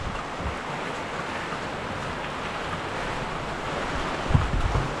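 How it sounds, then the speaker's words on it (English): Heavy rain pouring down at a jungle building site, a dense continuous hiss of falling water with a few close knocks near the end and no talk. "It's like rain, it's cold, it's like pouring"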